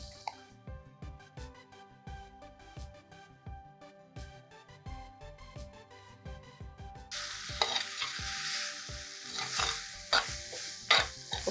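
Cooked quinoa with greens gets stirred in a sizzling frying pan, a spoon scraping in repeated rhythmic strokes over a soft, steady frying hiss that grows louder partway through.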